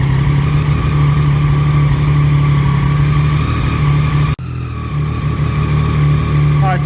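A 2014 Triumph Daytona 675R motorcycle engine idles loudly and steadily while warming up, a close continuous hum with a brief dip partway through.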